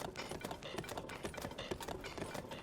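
Hooves of the horse Epona galloping in Zelda: Tears of the Kingdom, a steady rapid clip-clop running through the whole stretch under game ambience, no talk.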